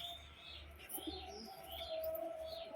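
A male Madras pigeon coos softly in a steady low, pulsing rhythm, with faint chirps from other birds in the background.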